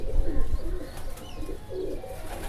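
Kale Chapdar pigeons coo in low, rolling bursts, close and fairly loud, with soft rustling between calls and no talking.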